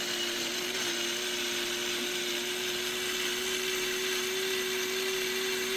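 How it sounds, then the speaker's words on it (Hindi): An electric blender runs steadily, blending a chicken marinade of red chili and black pepper for tawa chicken, a continuous loud whine with a sustained hum throughout and no voices. "इसको हमने अच्छी तरह ब्लेंड कर लिया"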